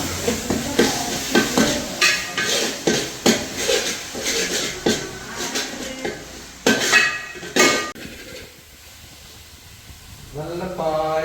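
Chicken curry masala stirred and fried in oil: repeated scraping and clanking strokes of a spoon against the pan over a steady sizzle, fairly close and loud, easing off near the end.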